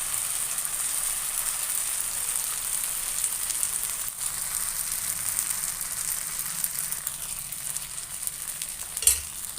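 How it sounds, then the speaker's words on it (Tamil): Wheat adai batter hits a hot oiled pan and sizzles steadily and evenly up close for the whole stretch, with a small clink near the end and no voices. "இப்போ தோசையை ஊற்றிக்கிறேன்"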